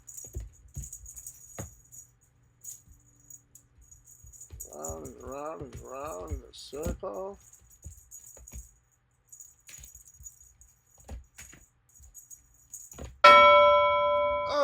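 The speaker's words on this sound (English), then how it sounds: "He's getting the bells." Small bells on a cat toy jingle faintly and intermittently as black cats play, mixed with soft rattling, a woman's sing-song talk in the middle, then a sudden loud electronic alarm tone at the end.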